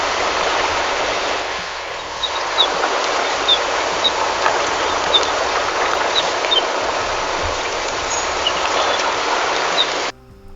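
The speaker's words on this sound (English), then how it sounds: "Ocean waves and a bird." AI-generated ocean waves rush and hiss steadily as a continuous wash, with small chirps from a bird scattered on top, ending abruptly after about ten seconds.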